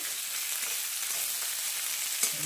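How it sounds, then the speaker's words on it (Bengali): Chopped onions frying in a pan for a meat dish, a steady close hiss of sizzling oil with no talk, plus one small clatter near the end. "তো পেঁয়াজটাকে আমি ভালো করে ভেজে নেব"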